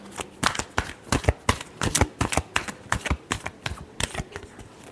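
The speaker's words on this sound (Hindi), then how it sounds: "Last shuffle." Tarot cards are shuffled close up in a quick run of sharp, rhythmic riffles and snaps, about a dozen crisp bursts over a few seconds with no talking.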